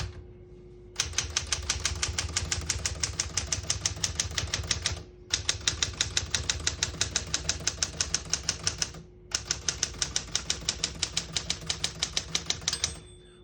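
Steady rapid keystrokes on a 1971 Smith-Corona Super Sterling portable typewriter clatter in three long runs separated by brief pauses, close and fairly loud, with no voices.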